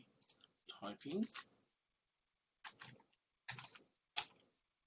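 Bursts of soft clicking, like keys being pressed on a computer keyboard, come in a few separate clusters with quiet gaps between them.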